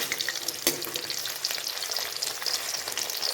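Stuffed onions frying in oil in a pan give a steady, close hiss of sizzling with scattered bright crackles and one sharp spatter, no voices over it.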